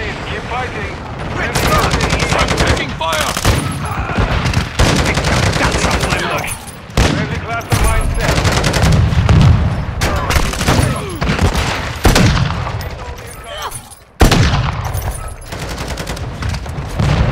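Automatic and rapid gunfire in the Modern Warfare video game, dense overlapping bursts with brief pauses, loud and close, with shouted voices mixed in.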